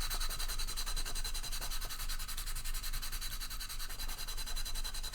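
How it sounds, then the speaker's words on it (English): Soft AK sanding sponge rubbing down primer on a 1/72 Dragon P-61B model kit part, a steady close scratchy hiss with continuous rubbing strokes and no talk. "just for rubbing down, what I've been using is one of these sponges, which is one of the AK sponges"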